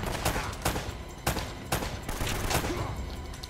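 Rapid gunfire from the video game Uncharted: Drake's Fortune: loud, close bursts of shots in irregular clusters, several sharp cracks standing out over a steady roar of shooting.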